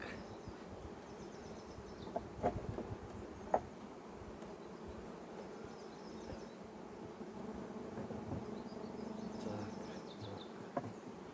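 A steady, faint hum of honeybees from a swarm being removed from a wall, continuous buzzing with a few soft knocks and no talking.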